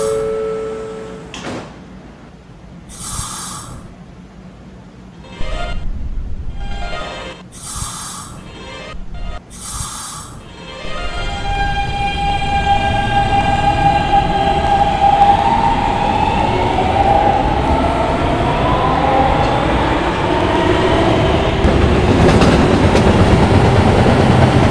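An R160B subway car on the D train runs along the line, with door chimes and brief tones early on before a steady, loud rolling rumble and rising motor whine build and fill the rest of the ride.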